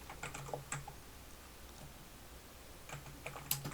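Keys clicking on a computer keyboard while working in Photoshop, a few quick bursts of close, light taps with quiet pauses between them.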